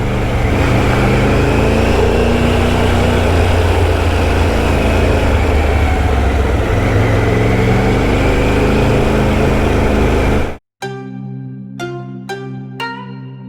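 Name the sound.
Triumph Tiger motorcycle riding through a gorge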